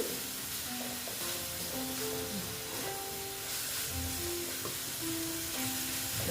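Pointed gourd frying in a pan after a splash of water, a steady crackling sizzle with stirring sounds and some faint tonal squeaks in the background.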